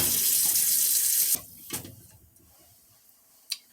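Tap water runs loudly into a Dutch oven holding a hog jowl, then shuts off abruptly, followed by a few faint clunks and drips nearby.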